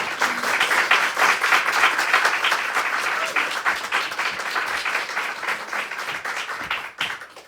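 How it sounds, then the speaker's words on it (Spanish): An audience at a literary reading applauds a journalist, with dense, sustained clapping that holds steady for several seconds before thinning out and stopping near the end. "yo pido un aplauso para Marcela"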